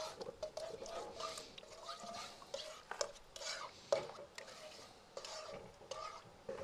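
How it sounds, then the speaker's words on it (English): Eggs scrambled in oil in a pan over an outdoor camp fire make faint, continuous scraping and stirring with a light, soft sizzle underneath and occasional small utensil clicks. "So I'm basically just gonna scramble these eggs"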